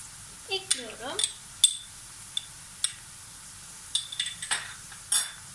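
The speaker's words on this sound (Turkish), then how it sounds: "Soğan ve sarımsağımı güzelce kavurduktan sonra" Onion and garlic sauté in a pan, with soft sizzling under scattered sharp clinks and scrapes of a utensil stirring against the pan, close and intermittent.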